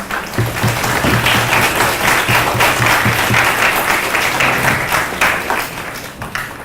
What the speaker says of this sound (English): Big round of applause for Kumar.